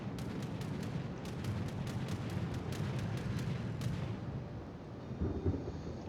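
Warship main guns firing armour-piercing shells at a Slava battleship in World of Warships, a dense rolling rumble of heavy booms with rapid sharp cracks layered over a constant low roar.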